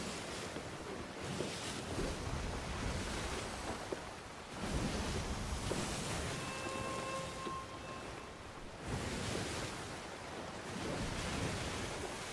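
Rough ocean waves in the video game Sea of Thieves surge and crash in repeated broad swells, with gusting wind roaring over the water and no voices.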